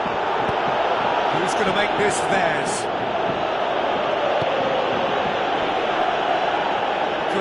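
A dense, steady roar of stadium crowd noise fills a PES 17 football match, constant and loud throughout, with a match commentator's voice heard over it.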